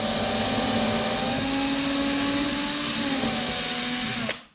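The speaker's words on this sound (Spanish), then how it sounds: "y taladraremos el segundo tablero" Power drill bores through a wooden furniture board with a steady high whine, close and loud, then cuts off abruptly at the end.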